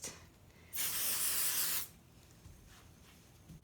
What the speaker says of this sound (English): spray the corners in case anything got missed